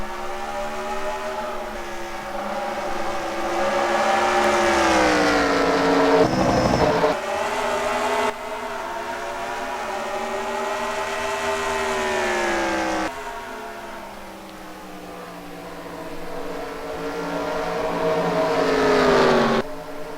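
Race cars lap the Milwaukee Mile in a racing video game, their engines making a loud continuous whine that swells and falls in pitch as the pack runs together, with no talking.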